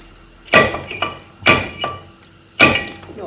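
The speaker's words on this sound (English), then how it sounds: "We're using the old trick where you reverse the rotor and turn it into a slide hammer" Reversed brake rotor driven as a slide hammer against lug nuts on a Jeep LJ axle, giving three loud, sharp metallic clanks, each trailed by a lighter rebound knock, close by and with no talking.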